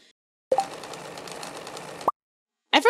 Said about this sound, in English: How the sewing machine works? We just need to feed it with a bolt of cloth and an item to tailor with.